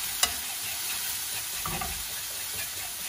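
Garlic fries in a hot pan for a Vietnamese peanut sauce, giving an even, close sizzle with a sharp clink of a utensil early on and soft scraping stirs.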